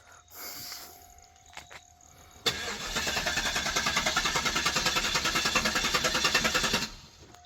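An old low-mileage Cadillac engine cranks after a quiet pause, catches and settles into a loud, steady idle with a rhythmic pulse lasting several seconds before cutting off.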